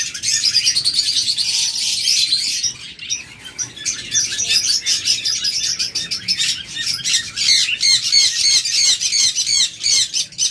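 Pet birds in a shop sell by pairs, with doves, cockatiels and budgerigars among them, squawking, chirping and calling nonstop. Dense overlapping high calls come close and loud throughout, with no talk.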